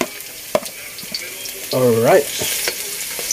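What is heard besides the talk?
garlic frying in a pan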